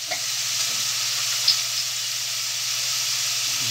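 Dried fish (tuyo) sizzles and fries in a pan with a steady hissing crackle, close and even, with a small stir-like bump partway through.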